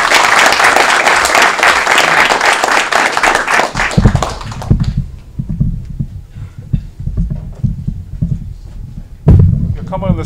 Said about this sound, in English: Another round of applause for our national champ.